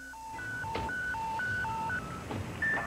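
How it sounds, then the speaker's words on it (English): A telephone keypad dials 911, a quick series of distinct touch-tone beeps over low background noise. "So he dialed 911 and called city police."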